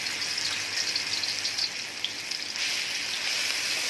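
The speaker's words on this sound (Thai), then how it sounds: "น้ำมันร้อนแล้ว ใส่พริกที่เราตำลงไปครับ" Pounded chilies dropped into hot oil for stir-fried pork belly with lemongrass, giving a loud, steady hissing sizzle that swells slightly toward the end.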